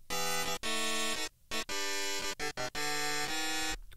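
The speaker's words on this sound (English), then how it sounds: "I wanted to turn that instrument that we made out of the Skeletor voice clip into chords" Bursts of buzzy, voice-like synth chords from an instrument sampled from a Skeletor voice clip, several sustained stabs separated by short gaps, loud and with no talking.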